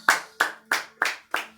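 A church congregation claps together in five slow, evenly spaced unison claps, crisp and close with a faint sustained tone between beats.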